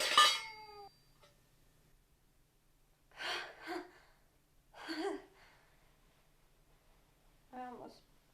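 A cat gives a few short, close meows and gasping vocalizations, spaced out with quiet gaps in between, with a person's voice heard at the start.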